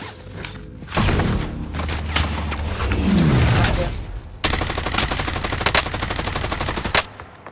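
Rapid automatic gunfire from close-range XM4 and MP5 fights in Call of Duty Warzone, loud dense bursts with a brief pause before a second sustained volley of rattling shots.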